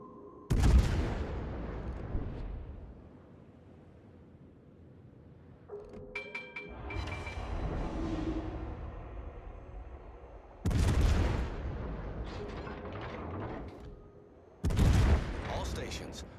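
Heavy naval gun salvos in World of Warships, three loud booming volleys spaced several seconds apart, each decaying into a rumbling tail, with an interface voice speaking between them.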